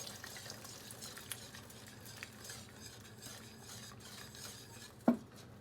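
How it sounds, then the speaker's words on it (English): Peach cobbler topping being whisked as a slurry goes into simmering peaches: a steady low stirring and scraping in a pot with faint bubbling underneath, then one sharp clink of the whisk against the pan near the end. "we're going to start to whisk this into"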